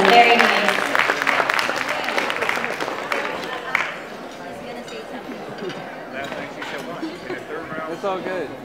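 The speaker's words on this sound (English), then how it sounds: "Let's give her a round of applause" Audience applause at a hospice Christmas party, strong at first and then fading into scattered claps and murmuring chatter from the crowd.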